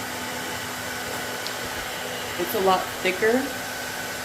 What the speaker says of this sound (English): we're putting the hood dryer on just because the cap is a lot thicker